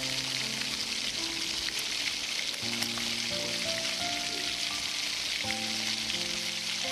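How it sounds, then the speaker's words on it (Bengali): Pieces sizzle in hot oil in a pan, a loud, continuous crackling fry that runs steadily throughout, with melodic tones sounding faintly behind it. "এবার একই তেলে বাকিগুলো আমি সব ভেজে নেব"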